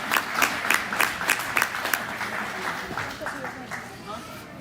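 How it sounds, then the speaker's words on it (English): A crowd at a stock show claps for the champion rider of the year, a burst of loud, rapid applause that thins into scattered claps with talk over it. "Let's give this lady a nice round of applause."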